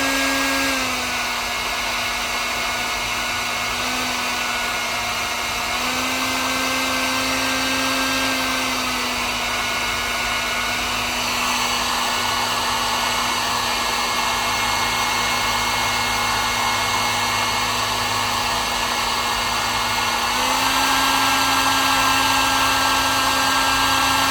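A heat gun blows steadily while shrinking heat shrink tubing over wires in a 1955 Chevy Bel Air radio conversion, a loud continuous fan roar with slight pitch shifts, close throughout and no talk.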